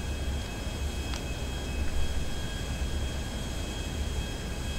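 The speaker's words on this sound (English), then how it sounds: "Got our nice jet here, stealth black, so they won't see us coming" A jet engine in GTA Online roars with a steady broadband rumble and whine, continuous and moderately loud throughout, with no talking.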